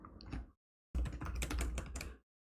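Quick bursts of close computer keyboard typing, one short burst and then a longer run of clustered keystrokes, separated by silence.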